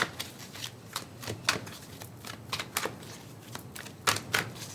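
Psychic Tarot Oracle cards being shuffled by hand: a rapid series of crisp riffling bursts in uneven clusters, close and clear, with no talking.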